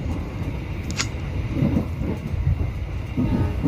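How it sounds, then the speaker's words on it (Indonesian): A passing train rumbles loudly and steadily, its wheels knocking over the rail joints in a faint repeating clatter, with no voices. "bunyi beradunya sambungan rel dengan roda kereta berbunyi jek jek jek jek jek jek"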